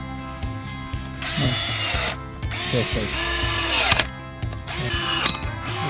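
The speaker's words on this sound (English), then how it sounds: "we're going to take a look at this LIGO electric pruning machine" LIGO cordless electric pruning shears run in repeated bursts, the motor whirring up and down with sharp mechanical clicks as the blades close, cutting garden branches and bushes. The pattern is close and loud, with short pauses between cuts.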